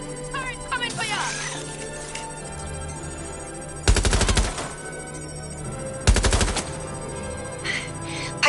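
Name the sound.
turret gunfire in a video game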